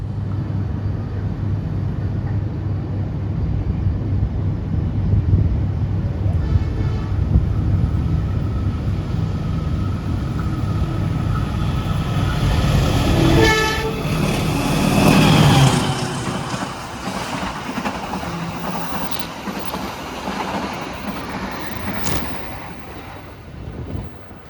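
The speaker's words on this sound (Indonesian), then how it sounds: "Kereta api Kahuripan akan segera melintas." The Kahuripan passenger train passes a level crossing with a continuous roaring rumble, rising to a loud pass with a sustained horn-like tone midway before the noise drops away.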